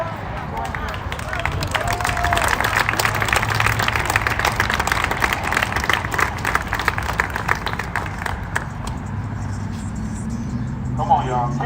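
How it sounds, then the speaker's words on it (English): Crowd clapping and cheering outdoors at a protest march by a Martin Luther King Jr. statue, a loose mass of claps mixed with voices, traffic and street noise, fading toward the end. "So give you guys a hand of applause for being here with us and going through it."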